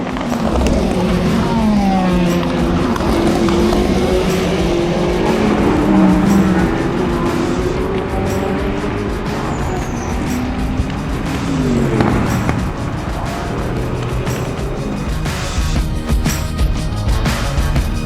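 Race cars roar past close by one after another, engines rising and falling in pitch as they sweep through, loud and continuous.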